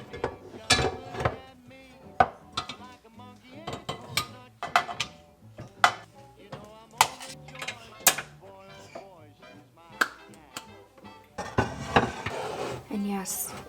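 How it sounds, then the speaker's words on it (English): Heavy pots, pans and lids clank and scrape as they are shuffled around inside a kitchen cabinet, with repeated sharp metallic knocks and rattles up close, and a louder jumble of clattering near the end. "I do need a better way to organize the lids and some of the pans."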